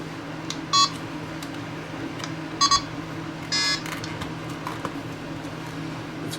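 Greenlee 200FP filter probe, just repaired after being dropped, gives three short electronic beeps spaced apart over a steady low hum, with no talking.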